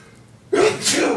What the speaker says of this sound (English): I sneezed the thoughts right out of my head